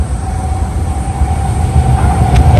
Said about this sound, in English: so this train is going to Yokohama